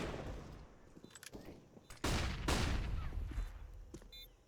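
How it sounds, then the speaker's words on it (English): Pistol gunfire in a Counter-Strike match on the Ancient map at a tournament: a burst of rapid shots crackles alongside other game noise, with one louder, denser volley in the middle, heard over a busy background. "Just a flurry of pistols that are attempting to keep attention drawn their direction."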